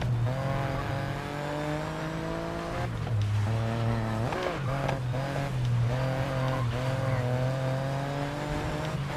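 Racing-game car engine from GRID Legends, a steady droning whine that dips and warps during a race rewind effect, pitch sliding down then recovering, loud and continuous with no talk.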